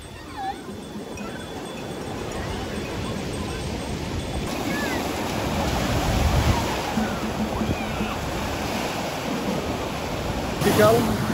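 Surf rolls onto Marina Beach in Chennai in late afternoon, a continuous broad wash of waves mixed with wind, swelling slightly midway and steady throughout.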